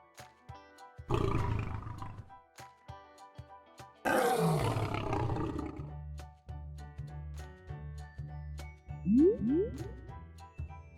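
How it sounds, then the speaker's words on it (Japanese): A lion roars loudly in a children's animal-sound quiz cartoon, a deep rumbling call in two strong bursts over a light repeating musical backing. "ライオンだよ。"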